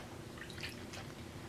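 Water poured onto a pottery wheel board, a soft wet dripping and splashing, faint and brief against low room hum.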